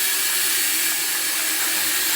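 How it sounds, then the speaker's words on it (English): Tap water runs steadily into an ultrasonic cleaner while parts from an English Enfield mantle clock are being cleaned, a continuous close hiss without pauses or voices. "What I'll do now is I'll run some more water into it,"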